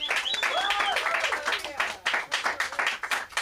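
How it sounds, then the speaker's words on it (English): An audience claps for a comedian at a Los Angeles comedy show. Light, scattered applause from a small crowd runs throughout, thinning toward the end, with a few whistles or whoops near the start. "give him a round of applause"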